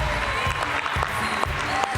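Applause from the audience at the F1 in Schools World Finals awards gala in Singapore for the Zero Gravity Team, steady dense clapping with faint crowd noise throughout.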